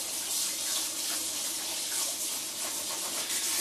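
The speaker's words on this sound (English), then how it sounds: "I'm just rinsing all the soap off the gloves" Water pours from a sink tap over soapy gloves being rinsed, a loud, close, continuous gush with a slight rubbing texture and no speech.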